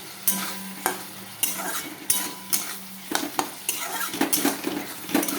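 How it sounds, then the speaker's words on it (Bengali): Chopped onion and potatoes sauté in a pan for muri ghonto, a light sizzle under repeated sharp scrapes and clinks of a spoon stirring against the metal, close and distinct. "এখন আমি এটাকে ভালো করে কষাবো। এর মধ্যে আলুটাও দিয়ে দিব আমি, এখন সবই একসাথে কষায় নেব।"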